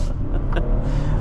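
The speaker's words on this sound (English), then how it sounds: "that V6 sounds great when you're winding it out" A 2025 Toyota Tundra's V6 engine pulling hard under acceleration in traffic, a loud close droning rumble with steady harmonic tone through the cabin.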